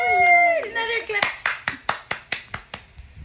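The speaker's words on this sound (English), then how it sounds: "Another clap." After a short stretch of talking, a pair of hands claps about eight times in an even, moderately quick rhythm, each clap sharp and close.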